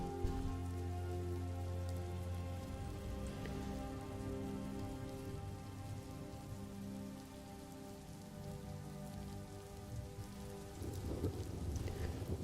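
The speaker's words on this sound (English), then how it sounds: "royalty-free rain sound effect, 5 hours" Steady rain patters on a surface with rolling thunder, a continuous wash of rainfall at even volume with a deep rumble swelling near the end, no voices.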